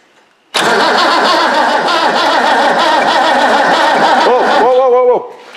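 A Ford 9600 tractor diesel engine cranks over loudly and abruptly after a short silence, a steady rhythmic churning drone for several seconds that winds down at the end.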